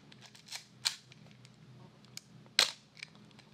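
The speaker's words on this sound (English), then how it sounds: "Here's what the camera sounds like in the normal setting." Yashica TL Electro-X SLR camera firing its shutter with mirror slap on the normal setting, a few sharp close mechanical clacks with one loud snap standing out over faint handling clicks.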